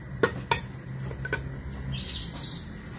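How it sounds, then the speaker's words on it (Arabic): Moroccan badaze with dried meat frying in a pot makes a faint, steady sizzle, broken by a few sharp clinks of stirring at close range. "نخليو حتى يتقلى."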